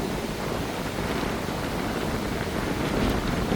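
Steady wind buffets the microphone on a Boracay beach, a continuous broadband rush with surf faintly mixed in, with no voices.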